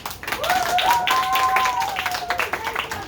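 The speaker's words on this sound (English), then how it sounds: "can we have a big round of applause to the staff?" Campers at a summer camp give the staff a big round of applause, a dense steady burst of clapping mixed with whoops and cheering voices lasting a few seconds.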